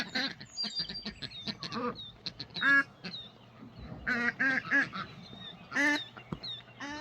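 Several ducks quack in bursts, overlapping and nearby, with a low steady hum in the background.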